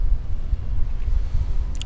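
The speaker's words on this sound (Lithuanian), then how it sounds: "nes apačioj dirba traktorius" A tractor working below a hunting tower during a wildlife photography outing, heard as a steady, loud low engine rumble mixed with wind buffeting, with no break throughout.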